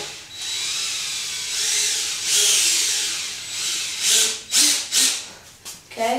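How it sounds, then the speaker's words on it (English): A power drill whirs in short bursts, speeding up and slowing as it drives screws into wood, close and fairly loud. "get your two longer screws and start drilling"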